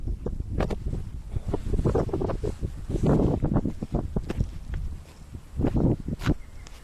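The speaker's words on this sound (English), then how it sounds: "Yeah, you got a lot of wind over here." Gusty outdoor wind buffets the microphone in rumbling surges, mixed with rustling and scuffing noises close by, with no clear talking.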